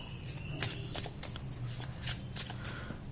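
Tarot cards being shuffled by hand, a series of quick, close riffling flutters in a loose rhythm, about eight soft papery bursts over a quiet room background with no talking.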